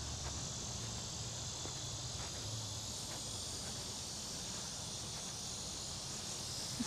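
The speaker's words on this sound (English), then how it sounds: "Cicadas are sure having a go at it today." A continuous high, shrill drone of cicadas among cypress trees at Silver Springs, steady and unbroken, with faint ambient rustle beneath.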